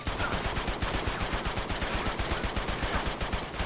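Rapid gunfire from the video game Uncharted 2, a dense, continuous burst of automatic shots rattling in fast rhythm throughout, loud and close.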